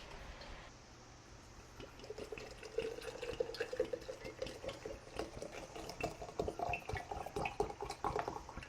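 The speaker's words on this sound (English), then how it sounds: "I'm going to grab some cool water and pour that on top of our marshmallow infusion." Cool water poured from a container over a marshmallow root infusion, a steady splashing trickle that continues for several seconds, fairly quiet and close with no talking.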